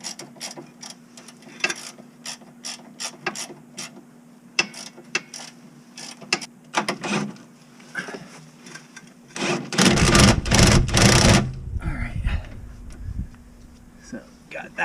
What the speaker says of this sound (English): Use the socket technique here, or the ratchet again.